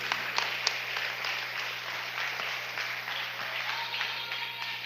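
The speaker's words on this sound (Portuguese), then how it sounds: "E você pode aplaudir a palavra de Deus" A church congregation applauds after a sermon, steady broad clapping from many hands that holds at an even level throughout, with faint voices underneath.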